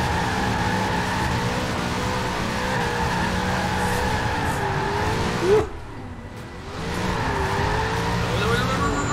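A Ford Ranger Raptor drifts in Forza Horizon 4, its engine droning steadily with a short tire squeal midway, after which the engine tone rises and falls as the truck slides through a corner.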